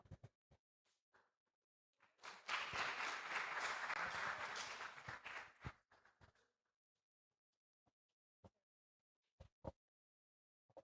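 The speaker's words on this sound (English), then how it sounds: "Let's give Team Stella another round of applause." Applause for Team Stella at an urban-planning conference: a few scattered claps build into a dense burst of clapping lasting several seconds, then fade to isolated claps and soft knocks.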